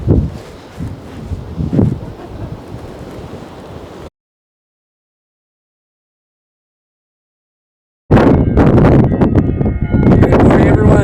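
Gusty wind buffets the microphone in Santorini, Greece, during the off season, a rough, roaring wash that cuts out into several seconds of silence before returning louder and fuller.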